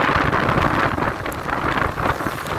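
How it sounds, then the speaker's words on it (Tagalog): Strong wind buffets the microphone on an outdoor road, giving a steady rushing roar with uneven low gusts and no speech. "Kusog ang hangin."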